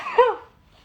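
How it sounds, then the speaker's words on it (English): A single short human sneeze, a sharp burst that fades quickly, close to the microphone with no talk over it. "hold on, I have to sneeze."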